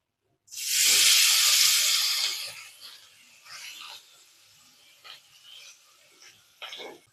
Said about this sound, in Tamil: இஞ்சி பூண்டு பச்சை மிளகாய் எல்லாம் கட் பண்ணி வச்சுருக்கோம். இதை ஆட் பண்ணிடலாம்.